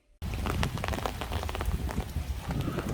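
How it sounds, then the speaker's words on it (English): Rain falls outdoors in a dense, steady patter of close drops that starts abruptly and keeps on without a break, with no voices. "Holy crap, it's actually raining."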